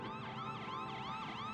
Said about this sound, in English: where even a siren is a trigger